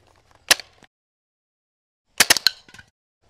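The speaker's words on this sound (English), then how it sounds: "All right, let's shoot that can." A coil accelerator firing at a can on minimum power in auto mode, a sharp close snap followed later by a quick burst of several clacking shots, with silence between.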